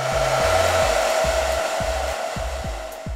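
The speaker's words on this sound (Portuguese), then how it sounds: "Novamente, vou secar com o secador no frio" A hair dryer on its cold setting blows steadily to dry brow glue, a loud continuous whoosh with a repeating low mechanical thumping underneath, no talking.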